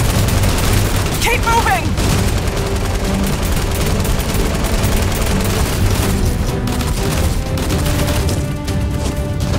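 Heavy gunfire erupts in a Fortnite short film, dense bursts of shots and booming impacts rolling on loudly throughout, with a voice shouting briefly amid the chaos.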